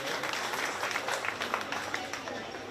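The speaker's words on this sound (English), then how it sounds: "let's give all three of these exhibitors a big round of applause for bringing out the projects" An audience at the Shelby County Fair 4-H livestock show claps for three ornamental goat exhibitors, a brief dense patter of applause while an announcer keeps talking.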